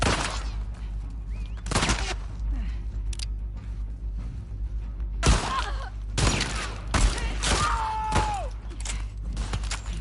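Gunfire in The Last of Us Part II cracks out as loud, sharp shots in scattered bursts over a quieter game ambience with creaks and mechanical clicks.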